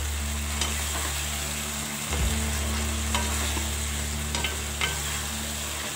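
Chicken being stir-fried in a pan on high flame gives a steady sizzling hiss with a low constant hum beneath and occasional light stirring clicks, close and fairly quiet.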